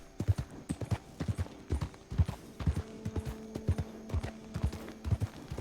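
Horse hooves clip-clop in a Wild West roleplay video game, a steady quick rhythmic gait of hollow thuds, close and clear, with faint tonal game music beneath and no talking.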